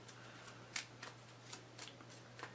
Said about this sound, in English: Draw that card and shuffle your deck